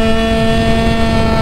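A Yamaha Aerox scooter engine is revved at half throttle, a loud, steady buzzing drone held close for the whole short moment.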